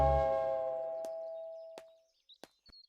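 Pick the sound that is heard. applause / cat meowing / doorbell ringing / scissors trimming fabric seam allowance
doorbell ringing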